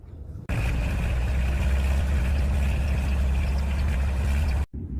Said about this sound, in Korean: 물통 지지대가 무겁기 때문에 트랙터를 이용해서 내려보도록 하겠습니다.